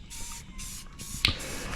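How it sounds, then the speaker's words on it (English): Regular Rust-Oleum spray paint hisses from an aerosol can onto a jon boat during restoration, in several short, close bursts with brief gaps and a sharp click near the end. "just spray paint and just some regular Rust-Oleum spray paint"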